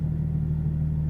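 Low, steady exhaust rumble from a 2016 BMW M4 in Sport mode, a constant idle-like drone with no talk over it.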